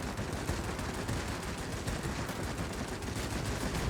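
Rapid, continuous aircraft machine-gun fire in the World of Warplanes game, with an IL-10M attack plane's guns chattering steadily and densely for the whole stretch over a dense engine-and-battle backdrop.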